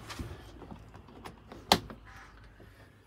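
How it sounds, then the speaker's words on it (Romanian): A sliding separator door in a 2017 Knaus Sport caravan is pulled across to close off the bedroom, giving one sharp clack amid a quiet room. "Trage ușa toată și se separă tot dormitorul."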